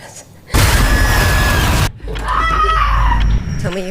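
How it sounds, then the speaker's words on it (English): A loud, piercing scream bursts out for about a second and a half, then cuts off into a low rumble and faint voices in a tense indoor scene. "Tell me you heard a scream."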